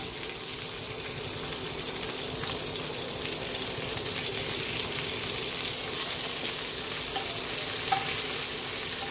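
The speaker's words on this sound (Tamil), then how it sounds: "பூண்டு கொஞ்சம் வதங்கட்டும்." Garlic cloves and curry leaves fry in oil over a low flame for tomato sambar, giving a steady, close, even sizzle throughout with no talking.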